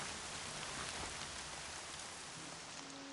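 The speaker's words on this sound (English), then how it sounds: "Raining like it's trying to wash everything away." Steady heavy rainfall in the video game Horizon Zero Dawn, a dense continuous hiss of drops on surfaces, loud and unbroken with no voices.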